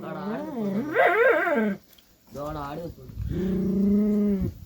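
A dog named Poppy growls and whines in agitation at a goat grazing nearby, a close, loud series of strained vocal bursts broken by a brief pause, with a long sustained final note.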